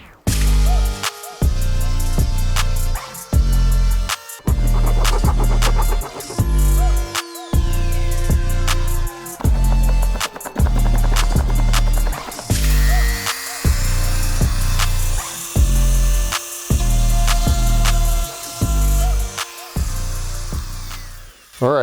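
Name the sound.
Dremel rotary tool clearing out pilot holes in car body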